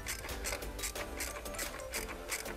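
Land Rover TD5 exhaust manifold stud nuts being nipped up on a Discovery 2 with a ratchet, giving a steady run of close, rapid mechanical clicks throughout.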